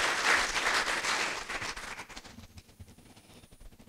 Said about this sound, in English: So please give Finn a round of applause.